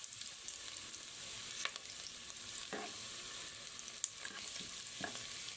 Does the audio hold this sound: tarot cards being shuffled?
no